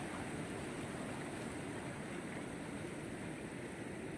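Fast-flowing water at Kaleekesam waterfall in Kanyakumari, a loud, steady broadband rush with no pauses and no voices.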